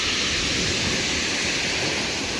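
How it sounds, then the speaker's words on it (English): Rough, choppy sea at high tide on the UK coast during squid fishing, a steady dense roar of surf and churning water with no distinct breaks, loud and continuous. "the sea is getting even rougher"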